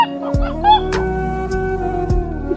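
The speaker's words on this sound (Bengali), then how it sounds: "মুরগি আবার কক কক করে ডাকে।" A chicken clucks in short bursts in a comic skit, the clucks sitting over a steady tonal background, with no speech.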